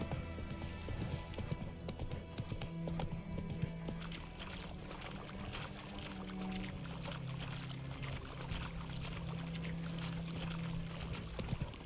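A horse gallops in The Witcher 3 next-gen on PS5, its hooves drumming a steady, rhythmic clip-clop throughout at a moderate, even level.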